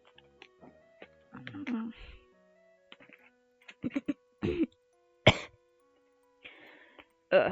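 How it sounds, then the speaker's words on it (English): Several people cough and clear their throats in scattered bursts, some short and sharp, others longer and rougher, close to the mic with quiet pauses between them. "so we just started coughing"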